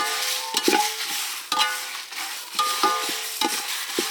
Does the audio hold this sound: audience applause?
no